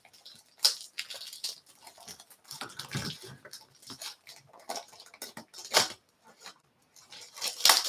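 Plastic top loader card sleeves being handled at a sports card table, a close series of irregular crinkling, clicking and rustling taps of varying loudness with brief pauses between, no talk.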